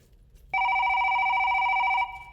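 A telephone rings once, a sudden loud electronic trill that holds steady for about a second and a half before cutting off, close and alone in a quiet room.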